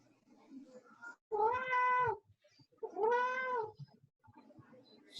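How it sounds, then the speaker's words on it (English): A cat meows twice, loud and close, in drawn-out calls with a short pause between them, during an online class session. "Whose cat is that?"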